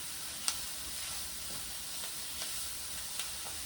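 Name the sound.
mushrooms and tomatoes cooking in a pan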